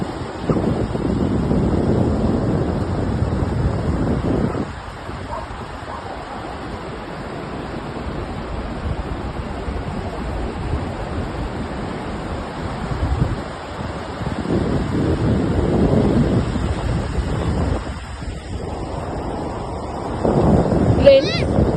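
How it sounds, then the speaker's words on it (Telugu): Ocean waves wash onto a beach at night under a full moon, a soft rushing surf rising and falling in broad swells with light wind noise close to the microphone. "మీరు అలల సౌండ్ వినండి"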